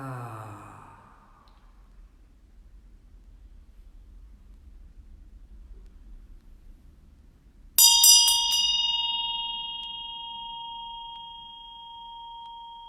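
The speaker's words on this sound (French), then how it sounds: "C'est une cloche tibétaine qui m'a été offerte par" A Tibetan bell gives a single clear strike after a long near-silent stretch, its bright tone ringing on and slowly fading. A soft breath or murmur is heard at the very start.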